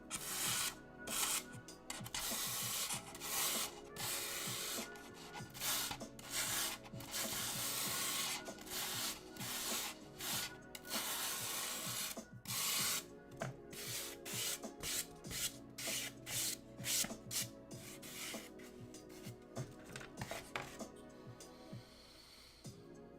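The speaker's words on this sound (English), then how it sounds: "Oh boy, this brush is rough. I'm sure that sounds wonderful on the speaker" Rough brush scrubbing over a surface while a diorama is being made, meant to look like stone, with fast, rasping back-and-forth strokes in bursts and short pauses, close but fairly quiet.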